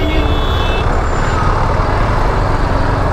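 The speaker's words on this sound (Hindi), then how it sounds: "बहुत ज़्यादा ट्रैफिक।" Heavy road traffic with trucks near a crowded festival site, a dense continuous roar of engines and road noise with a brief high horn or beep tone early on, loud and close.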